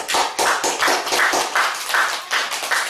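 Congregation applauding in a church service, a dense wash of many hands clapping together in a loud, sustained burst with a rhythmic pulse running through it.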